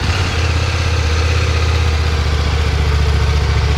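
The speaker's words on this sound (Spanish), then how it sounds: "Rico cuando está caliente la moto, totea. Popea, ellas popean." A warm Husqvarna motorcycle engine idles close by with a steady, throbbing low rumble, holding an even rhythm throughout with no other sounds over it.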